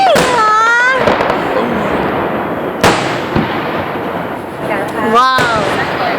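Fireworks burst over Lake Burton in sharp loud bangs and crackling booms, with whistling rising tones before several blasts and a crowd murmuring underneath.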